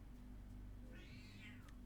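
A single house cat gives one rising-then-falling meow, moderately close but fairly quiet, over a low steady background hum with no talk.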